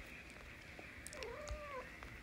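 A cat meows once in a long rising-and-falling call, mid-distance, over a steady hum with faint background noise and no talking.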